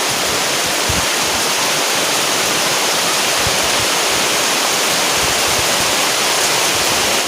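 Steady, dense outdoor rain falls across a guava harvest shelter in the rainy season, a broadband hiss that stays loud and constant throughout, with a few faint low knocks underneath and no talking.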